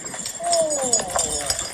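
A horse trots wearing rhythm beads and chains, with a steady hoof rhythm and light metallic jingling close by. A person speaks over part of it.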